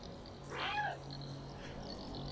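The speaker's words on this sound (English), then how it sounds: "A meow of celebration." A single short cat meow from the player's cat in the video game Stray, faint and close over a steady low hum.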